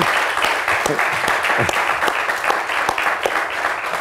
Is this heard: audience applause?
yes